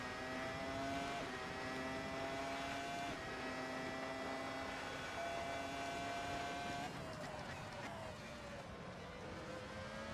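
Race car engine of a 1999 Formula 1 car in the Assetto Corsa racing game, a loud steady high-pitched whine that holds through gear changes and drops in pitch near the end as it slows.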